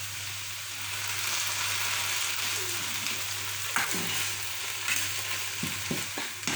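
Chopped tomato cooks in a pan with ackee, giving a steady close sizzle and frying hiss, broken by a few clinks and scrapes of stirring near the end.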